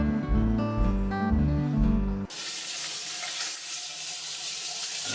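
Tap water gushes steadily into a sink after a brief lower-pitched noise, washing baccalà in a bowl, a continuous bright splashing rush that stays close and even.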